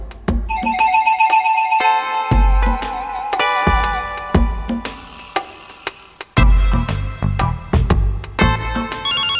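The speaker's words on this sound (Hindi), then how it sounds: "एक तो ये मरा फोन बजता ही रहता है।" A phone ringing loudly with a bright, repeating electronic melody, its tones chiming in quick bursts without pause.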